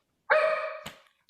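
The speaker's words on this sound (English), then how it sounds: "thought that was my dog for a second" A single dog bark rings out sharply, then a small bump follows, heard faintly in the background of a virtual planning commission meeting with no voices over it.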